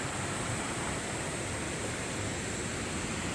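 Rushing water roars in a dense, unbroken wash, loud and steady like a waterfall close by, with no voices; a mountain-trail waterfall on Gayasan, swollen after heavy rain.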